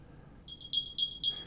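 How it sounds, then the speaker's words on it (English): A high electronic chirping alarm from an Apple AirPods Pro 2nd generation case, played through Find My, beeps in short repeated bursts, growing louder, over a faint quiet background. "There's an alarm that it can play"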